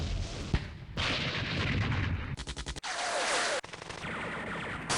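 Artillery and gunfire in a World War II strategy war game, with dense rumbling barrages, rapid crackling bursts and sharp booms that cut in and out, loud and continuous without speech.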